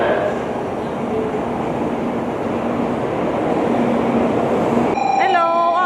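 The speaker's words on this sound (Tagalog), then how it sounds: "Uy, may parating na tren." A Shinkansen bullet train pulls into an Osaka station platform with a loud, steady rushing rumble that fills the clip and then settles, followed by a brief chime-like tone.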